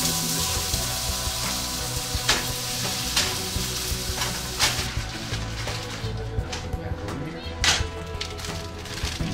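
Shredded-potato hash brown, a pre-formed cake, frying steadily in a hot pan with a dense continuous sizzle, a few sharp pops and scrapes, and a voice talking over it at times.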